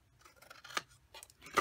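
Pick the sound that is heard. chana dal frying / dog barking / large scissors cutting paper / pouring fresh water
large scissors cutting paper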